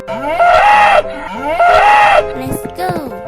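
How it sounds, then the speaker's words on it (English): A cow moos twice in long, loud, drawn-out calls, followed by a shorter, softer bleat-like sound over light music. "Cow."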